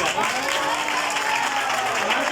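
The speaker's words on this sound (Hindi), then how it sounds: "जोरदार तालियां।" Loud applause for a groom at a wedding gathering, a continuous clatter of many hands with voices mixed in throughout.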